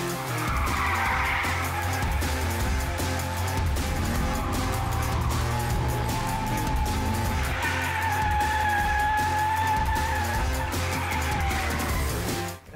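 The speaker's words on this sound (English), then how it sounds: "Okay, so that's a handbrake turn" A car pulls a handbrake turn at a drift school, its engine droning loud and close while tires squeal and skid continuously for several seconds, the screech rising and wavering.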